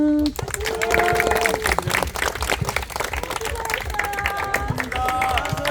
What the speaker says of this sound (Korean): 오늘 수상하신 분들께 큰 박수 드립니다.